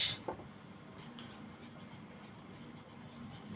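Pen or pencil writing numbers by hand on paper for a second-grade math lesson, a close, steady soft scratching that runs continuously after a brief initial tap.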